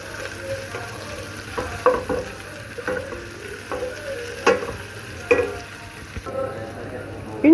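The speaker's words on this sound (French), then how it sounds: "Oignons émincés avec de l'ail. Bien remuer l'ensemble." Sliced onions and garlic frying in a pan, a steady soft sizzle broken by repeated scraping clicks of a utensil stirring them, close and moderately loud.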